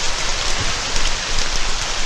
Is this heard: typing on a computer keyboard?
no